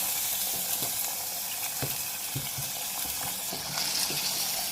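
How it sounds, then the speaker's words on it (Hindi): Spices and chicken fry in a pan while being stirred, giving a soft, steady sizzle with occasional clinks and scrapes, faint and close. "इन सब मसालों को हम साथ में डाल के 2 से 3 मिनट दोबारा भूनेंगे"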